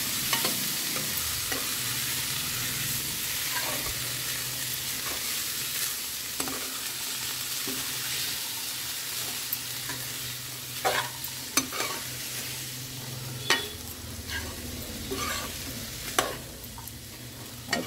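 Chopped garlic and seeds sizzle steadily in hot oil in a pan, with occasional scraping stirs and clicks of a utensil breaking through the constant frying hiss, heard up close and without talk.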